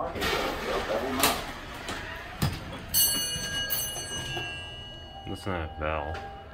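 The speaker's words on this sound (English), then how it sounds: "Listen to that bell." An arrival bell on a 1971 Westinghouse Selectomatic elevator at Tampa International Airport rings with a clear sustained tone amid background noise and a short burst of talk.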